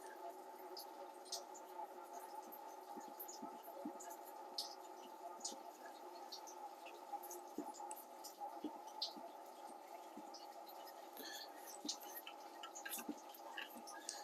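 Coolant drains from a Jeep Wrangler radiator hose in a quiet garage, heard as faint, scattered drips and small ticks over a steady low hum, irregular and close.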